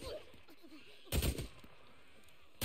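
Two bursts of sharp, booming gunfire from Days Gone on PS5, the first a cluster of shots around a second in, another single blast near the end, with muffled chatter earlier.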